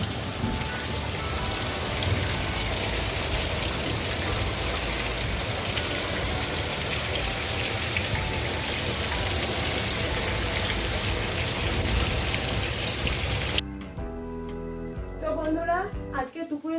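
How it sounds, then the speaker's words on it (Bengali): Heavy rain pours steadily outside, a dense constant hiss that runs for most of the stretch before cutting off abruptly near the end, where other sounds take over. "বাইরে দেখো কিরকম বৃষ্টি পড়ছে"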